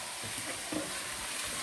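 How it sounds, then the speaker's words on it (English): Ground beef cooks in a pot for steak soup, giving a soft, steady sizzle and bubbling with faint stirring scrapes, heard up close and alone. "now I'm going to add the ground beef. And we'll let that simmer for a little bit"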